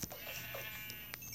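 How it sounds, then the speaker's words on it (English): Sheep in the Minecraft video game bleat in a few short, faint calls over a low steady background hum, with no voices. "Sheep, I'm gonna need you."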